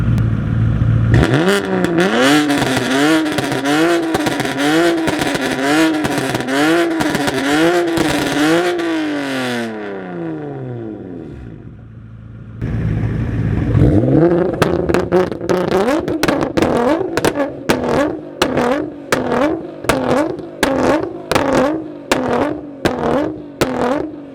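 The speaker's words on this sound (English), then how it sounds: "Let's show you what a real exhaust is like." A BMW F80 M3's exhaust, loud and close, revs repeatedly, rising and falling in long sweeps, goes quiet briefly, then returns with sharp, rapid throttle blips and crackling exhaust.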